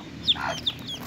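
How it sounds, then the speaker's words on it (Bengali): Layer chicks hatched under a local desi hen give a few brief, shrill peeps, two sharp calls standing out near the start and middle over a soft, steady background. "এখানে যে 3টা বাচ্চা দেখছেন এই 3টা লেয়ার মুরগির বাচ্চা, দেশি মুরগি দিয়ে ফুটিয়েছি"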